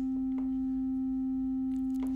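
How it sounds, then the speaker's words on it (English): A synthesizer sine wave sustains a single steady pitch from start to finish, pure and unwavering, with only a few faint clicks alongside it. "Let's bring in the sine wave."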